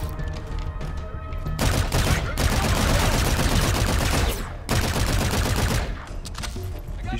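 Heavy automatic gunfire in Call of Duty: Infinite Warfare: long, loud bursts of rapid shots roll on for several seconds, broken by brief pauses, close up with no talking.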